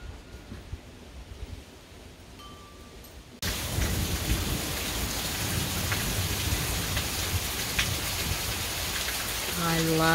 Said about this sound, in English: I love these kind of storms.